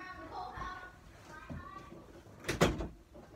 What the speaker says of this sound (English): But I'm gonna close my door.